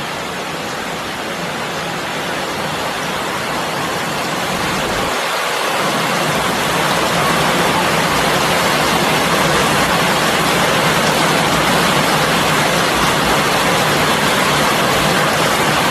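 Steady rain falls over a rural home after a long spell of hot weather, a dense, even hiss that holds without a break and swells slightly louder as it goes on.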